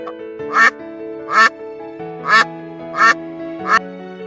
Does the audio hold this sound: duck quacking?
yes